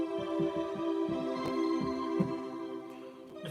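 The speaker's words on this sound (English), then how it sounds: "and then you've got a tremolo." Sustained electric organ chords with a tremolo effect, the volume pulsing in a quick regular throb, close and steady, played live without talk.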